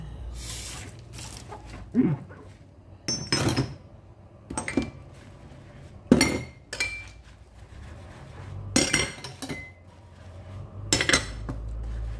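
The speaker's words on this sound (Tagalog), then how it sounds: "Hindi mo pwede gamitin yung pangkuskus mo sa plato, gamitin mo rin sa baso kasi magalo-halo yung amoy." Dishes, plates and glasses are washed with a scrubber in a home kitchen, with repeated clinks and clatters of crockery and cutlery between quieter scrubbing and rinsing, heard close.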